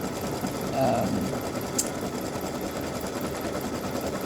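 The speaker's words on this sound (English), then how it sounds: "this is stitching directly onto the t-shirt" A sewing machine stitches directly onto a t-shirt, a steady mechanical whir running through the clip and swelling briefly near the start, heard under the speaker's voice.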